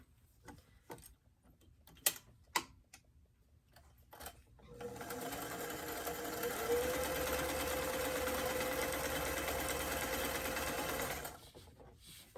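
A sewing machine stitches the hem seam of small doll pants: a few light clicks and taps first, then a steady close whirring run of several seconds that stops abruptly.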